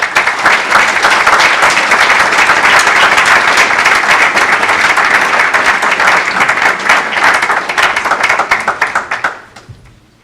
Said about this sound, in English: let us give a round of applause to Olav for this